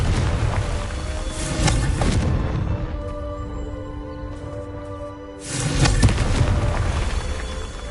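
Repeated explosive Confringo spell blasts from the Hogwarts Legacy video game, two loud broadband bursts with a quieter rumbling, tonal game-music stretch between them, no talk.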